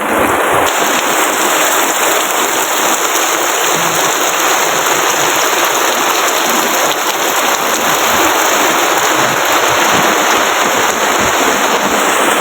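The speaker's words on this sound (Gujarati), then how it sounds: "જોઈ લો કેટલો વરસાદ પડ્યો જુઓ" Heavy, steady rain pours down continuously, a dense broadband hiss with a constant high whine running through it; no voices.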